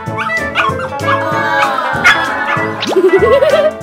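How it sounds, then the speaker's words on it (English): A small homeless dog yips and whimpers playfully in a shop, close and fairly loud, mixed with a voice speaking over it. "Excuse the dog, miss. It really likes to play with the customers."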